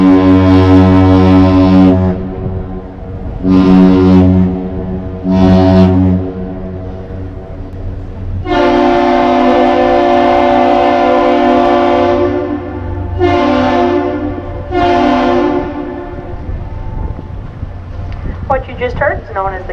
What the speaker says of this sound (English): What you just heard is known as the Captain's Salute.